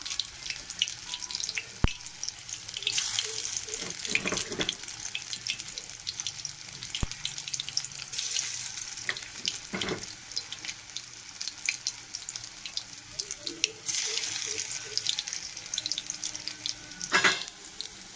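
Steady sizzling of food frying in a pan, with occasional clinks and stirring scrapes, close and fairly quiet throughout.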